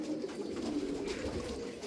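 Tokat tumbler pigeons at a bird market cooing steadily, a soft continuous murmur of several birds close by with no talk over it.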